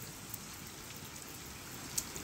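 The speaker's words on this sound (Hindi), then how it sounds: "यहाँ पे बारिश हो रही है ना" Steady rain falls outside, a dense, even hiss of drops on surfaces with a few faint louder patters, heard alone without talk.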